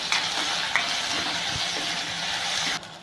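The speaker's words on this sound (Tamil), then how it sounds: "போட்டு இந்த வெங்காயம் நல்லா வணங்கணும்." Chopped onions fry in hot oil for a turkey berry curry, giving a steady loud sizzle with scraping sounds as they are stirred in the pan.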